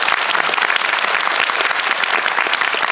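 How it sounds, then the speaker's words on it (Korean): A seated audience at a film screening and music talk event bursts into dense, continuous applause, many hands clapping loudly and evenly throughout. "다시 한번 박수를 부탁드립니다"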